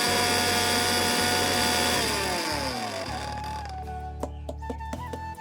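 A kitchen mixer grinder whirs loudly as it grinds puffed rice. The steady motor drone then winds down in pitch, and a few sharp clicks and rattles of the jar follow once it stops.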